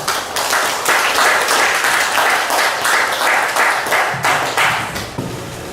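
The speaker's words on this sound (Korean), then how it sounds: "큰 박수 부탁드립니다" Lecture audience welcoming a humanities speaker with a big round of applause, dense clapping from many people that swells, holds steadily and gradually thins out toward the end.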